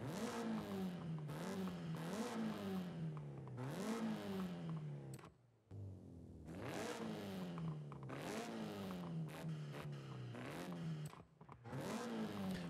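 A rear-wheel-drive-swapped Honda Prelude SI, fitted with a new intake and built toward 400 horsepower, revs hard over and over, each loud rise and fall close by with one short pause midway, no talking.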